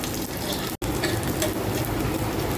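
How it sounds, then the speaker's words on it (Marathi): Spinach poha cutlets shallow frying in oil over a medium gas flame, giving a steady, close, even sizzle that runs throughout with one very brief dropout. "मिडियम गॅसवर आपल्याला शॅलो फ्राय करून घ्यायचं आहे"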